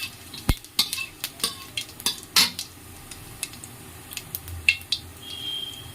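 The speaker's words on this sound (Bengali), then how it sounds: "জিরেটা একটু ভাজা ভাজা হবে।" Cumin seeds crackle softly in hot mustard oil in a kadai while a metal spoon scrapes and clinks against the pan in irregular sharp strokes, close up with no talking.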